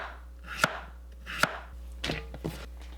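An old pumpkin being sliced into thin flat pieces on a cutting board, four or five sharp knife chops spaced irregularly, close and fairly quiet against a near-silent room.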